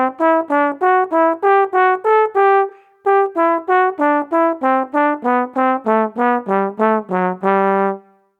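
A scale exercise in thirds is played as a steady rhythm of short, evenly spaced tones on a single wind-like instrument, climbing and then descending, ending on a held low note.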